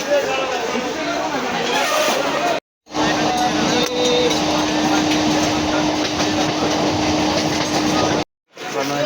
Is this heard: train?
yes